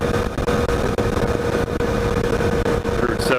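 A Triumph Tiger 800 motorcycle engine drones steadily during a ride on a country road, a loud, constant hum mixed with rushing wind noise throughout.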